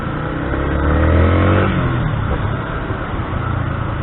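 A Yamaha Sniper 150 motorcycle engine revs up loudly nearby, the pitch climbing then easing off into a steady, rough idle.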